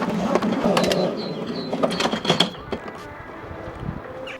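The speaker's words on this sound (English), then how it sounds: "Once the hose is fully filled, you can then reel it back in and it's ready to go." Hozelock 25m compact wall-mounted hose reel winding its hose back in, a close, steady mechanical ratcheting and clicking for the first few seconds that fades into quieter rattles and faint scrapes.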